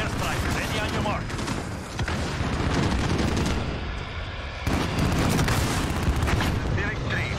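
Precision airstrike explosions rumble through a military video game in a dense, continuous barrage of booms and crackling blasts, with radio-style voices talking over the noise.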